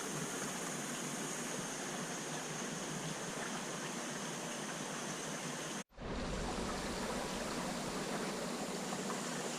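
Steady rushing water pours from an outlet pipe into a large fish tank holding five big catfish, a constant broadband stream that cuts out for an instant near six seconds before resuming just as strongly.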